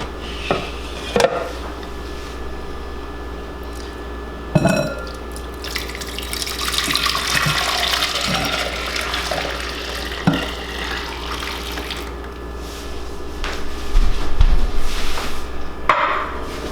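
Kefir water pours steadily into a bowl for several seconds, with a few light clinks and knocks before and after.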